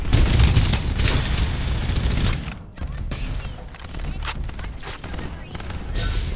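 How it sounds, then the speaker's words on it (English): Rapid gunfire from the battle royale video game Fairlight 84, loud bursts of shots crackling through the opening seconds, then scattered sharper reports continuing over a steady game background. "Oh shoot, who's shooting me?"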